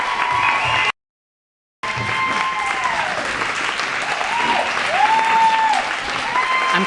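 Audience applause for a standing ovation at a Paul Mitchell speaking event, steady dense clapping from a large crowd that fills the room, briefly cut by a moment of silence, with faint voices beneath.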